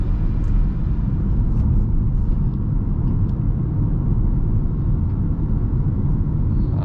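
Road noise inside a 2022 Audi Q3 S line Premium 45 TFSI quattro while driving: a loud, steady low rumble of tires and wind filling the cabin throughout, with no talking.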